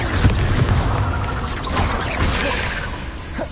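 A roaring, crashing burst of magical fire from an Incendio spell cast in the wizarding game Hogwarts Legacy, loud and close, with whooshing flames and booming impacts in a dense spell-combat din.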